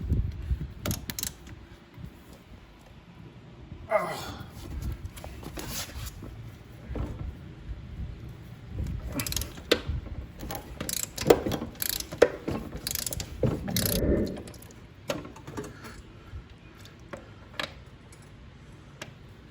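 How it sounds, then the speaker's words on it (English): A socket ratchet fitted with a 3/8 inch socket adapter works on the drain plug of a Toro mower's Tecumseh engine, giving bursts of quick clicking pawl ratchets and metallic clanks, close up, separated by quiet pauses, with no speech. "You fit a 3/8 inch socket adapter in there to drain it."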